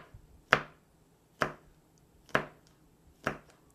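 Green onions chopped with a French knife on a cutting board: four crisp, evenly spaced knife strikes about a second apart, close and clear in a quiet room.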